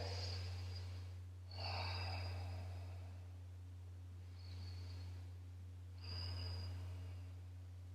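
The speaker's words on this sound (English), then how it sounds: "Let's take 2 deep breaths here." Slow, deep breaths during a warrior two yoga pose, a few long audible inhales and exhales with a soft nasal edge, heard close over a steady low electrical hum.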